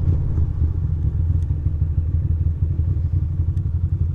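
A motorcycle rides through the streets of Williamsburg, its engine a steady low rumble close by with faint clatter and passing road noise, and nobody speaking.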